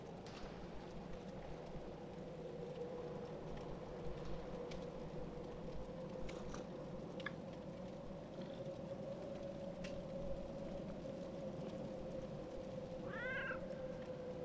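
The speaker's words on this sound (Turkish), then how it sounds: "Bu şekilde bekleme ekranındayken bir kedi geliyor yanımıza." A cat meows briefly near the end of a looping waiting-screen animation in the horror game Dead by Daylight, a short rising cry over a steady droning ambient hum.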